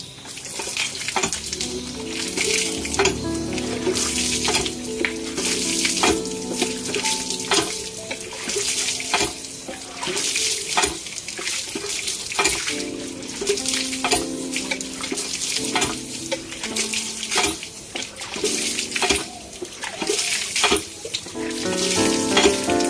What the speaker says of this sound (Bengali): এবার মাথাটা আমি জল দিয়ে ধুয়ে ফেলবো